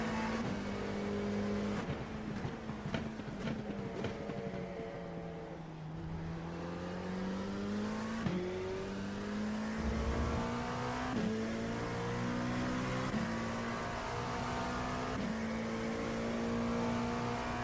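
Hypercar and prototype race car engines in iRacing, a steady loud drone that climbs and drops in pitch through repeated gear shifts over about seventeen seconds, with no talking.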